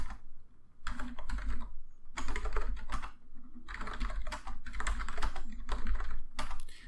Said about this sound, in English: we create one ourselves and we type some usernames